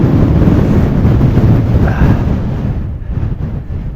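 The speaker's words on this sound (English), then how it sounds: "Oh, the wind." Strong wind roaring and buffeting across the microphone on an open fell summit in the Lake District, loud and continuous, easing slightly toward the end.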